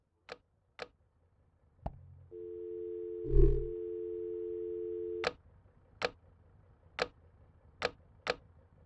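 Sharp electronic ticks sound at irregular intervals around a steady telephone-like tone lasting a few seconds, with a brief buzzy burst in the middle, from tapping into a phone system in the VR game I Expect You To Die.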